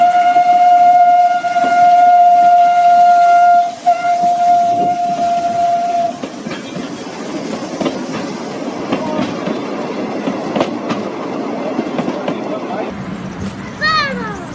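A restored Mallet-system compound tank steam locomotive at a Basque railway museum gives a long loud steady whistle. The whistle then breaks off into heavy rumbling running noise with rhythmic clanking and hissing, while a voice speaks over it.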